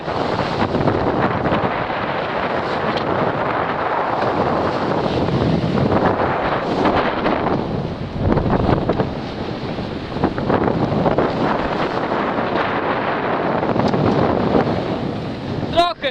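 Strong wind buffets a rocking sailboat at sea, a continuous loud roar of wind noise on the microphone mixed with water and surf washing around the hull.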